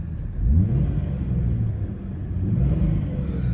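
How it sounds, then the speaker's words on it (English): A 2004 Jeep Grand Cherokee with a 4.0 petrol engine and automatic gearbox, heard up close as it takes a quick rev that swells and falls back, then a second, smaller rise over a low, rumbling idle. "Let's just give it a quick rev."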